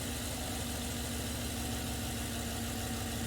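A car engine idles steadily and evenly at close range, with a constant low rumble and no talking, after being started up during an in-cylinder pressure test.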